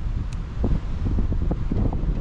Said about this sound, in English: I've got to wait for the wind to stop.